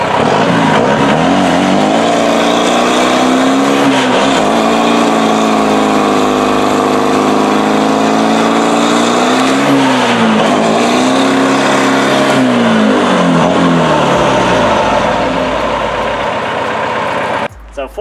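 A Cummins 4BT four-cylinder diesel, 168 horsepower, swapped into a small Chevy S10 truck, revving loudly up and down in two long swells from a rough idle, close by, ending abruptly.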